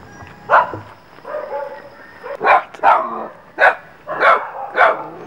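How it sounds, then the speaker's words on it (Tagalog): Several dogs bark in irregular bursts, one after another, at moderate distance, with short gaps between barks. "ang tanging maririnig mo lamang ay ang tahol ng mga aso"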